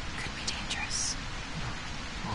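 Rain falls in the survival horror video game A Quiet Place as a soft, steady hiss that is fairly faint and continuous, with a few brief higher tones over it.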